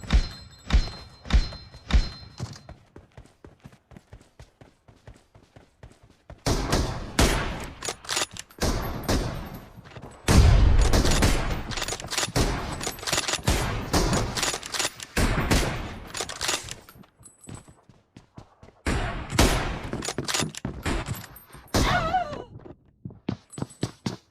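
Loud bursts of gunfire from an M24 shooting video game come in rapid volleys and single heavy thuds, with a few quiet gaps between the sustained runs of shots.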